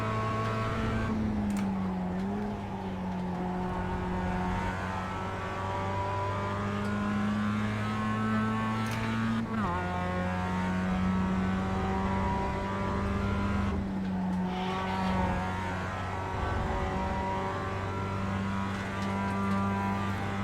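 Mazda MX-5 Cup race car engine in the iRacing sim at Laguna Seca, holding a steady, buzzing drone with a few sharp shifts and dips in pitch as it brakes and accelerates through corners.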